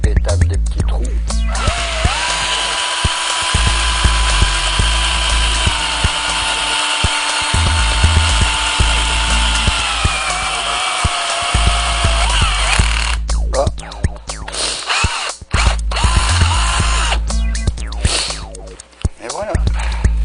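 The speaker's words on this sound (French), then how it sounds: "On termine cette maudite étape des petits trous." A power drill whines steadily and close by while boring small holes. The pitch sags slightly near the end of the long run, then breaks into short, choppy bursts.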